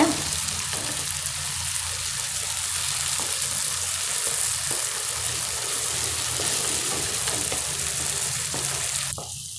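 Onions and tomatoes sizzle and sputter steadily in a hot pan, with occasional stirring scrapes, close up and continuous.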